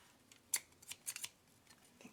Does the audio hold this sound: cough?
no